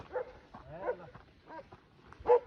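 Several short dog barks and whimpering yelps come in bursts, one louder yelp near the end, fairly close with no talk.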